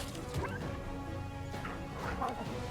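Several dogs bark in the fantasy role-playing game Pathfinder: Kingmaker, with sharp barks and yips and a whimper over a busy mix of game sounds and a thud, moderately loud.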